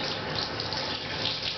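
A tap pours lukewarm water to wet a small dog for its bath, a steady, close, continuous rushing gush with no voices.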